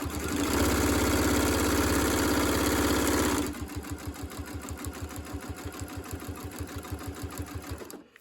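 A sewing machine stitches binding onto a quilt, first a loud continuous whir for a few seconds, then a slower, even run of distinct stitch thumps before it stops, close up with no talk.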